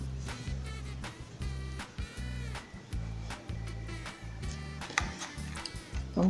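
A sewing machine runs a straight seam in loud, rhythmic bursts of rapid stitching, pausing briefly between runs, close by with faint clicks over the motor hum.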